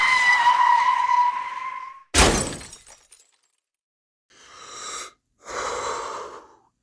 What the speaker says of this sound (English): we're about to crash!